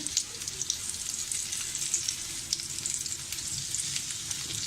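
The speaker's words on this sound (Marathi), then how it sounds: "दुसऱ्या बाजूने सुद्धा आपण असंच खरपूस भाजून घेऊया." Potato and poha cutlets shallow-frying in a pan until crisp, a close steady sizzle dotted with frequent small crackling pops, with no voices.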